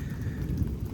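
Steady rain falls hard on surfaces during an early-morning thunderstorm in Houston, Texas, with a low continuous rumble of thunder beneath the dense patter, close and unbroken for the whole moment.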